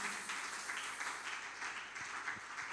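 A church congregation applauds and acclaims the Lord, a dense steady wash of clapping from many hands at middle distance, with faint voices mixed beneath it.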